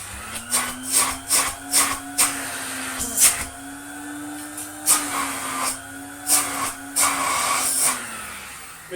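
A 1980 Spinney U62 budget vacuum cleaner runs with suction, a steady whine underneath repeated knocks and clatters as parts are handled close by.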